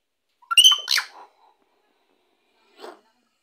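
A hill myna gives a loud, harsh whistling squawk up close, then a shorter, quieter call after a pause.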